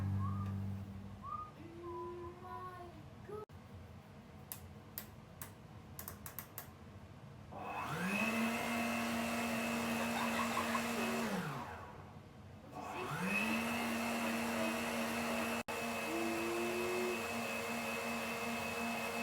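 An electric stand mixer beats sugar with a steady motor whine that ramps up, runs, winds down, then starts again, after a stretch of clattering and faint voices before the motor begins.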